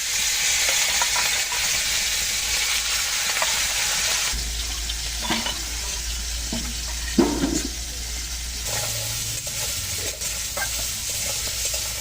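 Crabs frying in a hot pan with bay leaf and whole cumin for a Bengali crab curry, giving a steady loud sizzle with occasional stirring scrapes, no voices.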